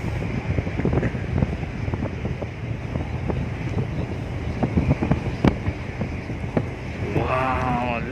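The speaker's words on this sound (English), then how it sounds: "Windy." Strong wind roars steadily across the microphone at a harbour as a large cruise ship departs, a constant rushing buffet with occasional gusts and faint water and boat noise beneath.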